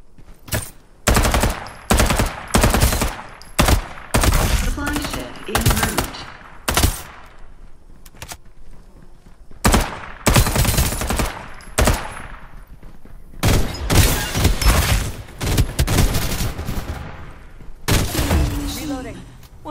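Bursts of rapid automatic gunfire and single shots in the battle royale video game Farlight 84, loud and close, coming in repeated volleys separated by short pauses, with game voices in between.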